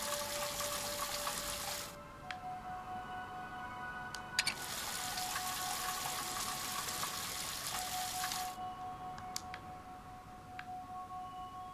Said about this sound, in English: It's a shower. There's a lever.